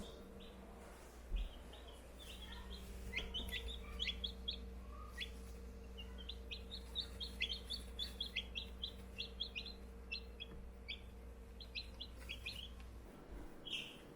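Baby chicks in an indoor brooder peep in a steady stream of high, short chirps, fairly soft and overlapping, over a low constant hum.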